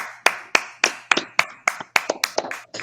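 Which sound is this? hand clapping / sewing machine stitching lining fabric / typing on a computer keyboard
hand clapping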